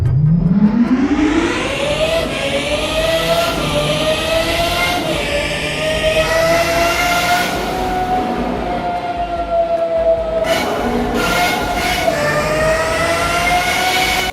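A Lamborghini V12 engine in a video game winds up from low to a high sustained whine, held loud and steady for several seconds with brief shifts and dips along the way.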